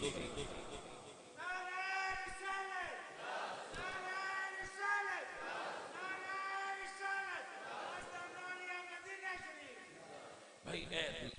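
Congregation in a jamia mosque chanting religious slogans in unison during a Friday sermon, repeated loud call-and-response bursts of massed voices rising and falling in a steady rhythm, filling the space.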